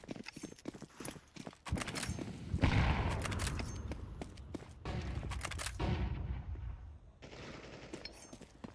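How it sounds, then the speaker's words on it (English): Gunfire rings out in a competitive tactical shooter match during a collegiate esports league game. Sharp shots come in scattered bursts and rapid volleys, some close and loud, others lighter, with no speech over them. "Nice fire from MX"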